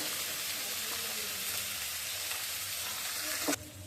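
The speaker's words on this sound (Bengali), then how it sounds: "তারপরে ওই যে আলু আর পেঁয়াজ ভাজাটা বসিয়ে দিব" Potatoes and onions sizzle and crackle in oil in a pan, a steady close frying hiss with light stirring, ending in a brief clatter near the finish.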